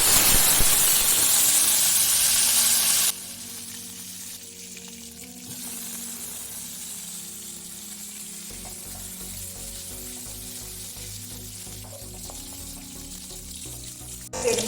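Dried red chilies frying in ghee for paruppu thogayal give off a loud sizzle at first that drops to a quieter, steady hiss with light stirring and clinks of the pan.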